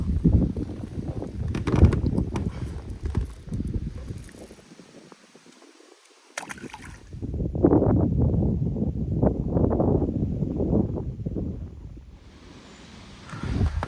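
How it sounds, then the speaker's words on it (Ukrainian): Strong gusts buffet the microphone in heavy roaring bursts while fishing from a boat on the Psel river, dropping briefly to near quiet before the wind surges back. "Бачите, розпочався дуже сильний вітер"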